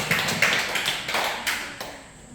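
A handful of scattered, uneven claps from a small congregation at a church worship service, sounding close in a reverberant room and gradually thinning out.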